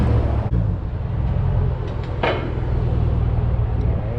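A Chevrolet Camaro SS with a freshly installed X-pipe exhaust idles close by, a steady deep rumble holding throughout, with brief clanks and shop noise over it.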